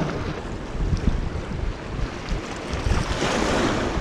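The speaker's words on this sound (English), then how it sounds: "Kind of good that wind's starting to die down as well." Steady wind rushes and buffets outdoors at a fishing spot by the water, a broad continuous roar with gusty swells and no voices.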